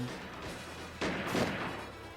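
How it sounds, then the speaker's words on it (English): Gunfire in a visual novel video game, a brief burst of shots and crashing noise over a low sustained game music bed, fairly faint and distant. "hearing the gunfire brought me back as I immediately crouched down for cover"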